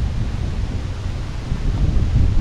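Strong wind buffets the microphone in low, roaring gusts, swelling louder near the end, with no voices.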